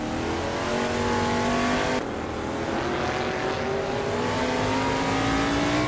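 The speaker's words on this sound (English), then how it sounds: "Kyosify is racing a 1971 Ford Torino" Engine of a 1971 Ford Torino race car in a racing game, a loud continuous roar climbing steadily in pitch through the gears, with a brief shift dip partway before revving up again.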